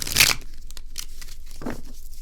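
A crisp riffle of tarot cards at the start, then a few softer papery shuffles and taps, close up.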